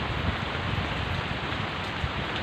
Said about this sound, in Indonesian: masih gerimis, tapi lanjut bentar lagi deh.